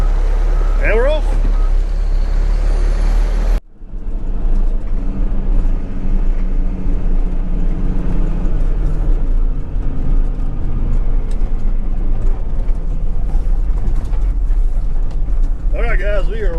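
A pickup truck pulls away after its tailgate is latched, a loud steady engine and road rumble filling the whole stretch after a brief cut, with a voice heard faintly near the start.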